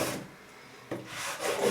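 Hand sanding of a wooden piece: close, dry rasping strokes, a short scrub, a pause, then a second longer pass.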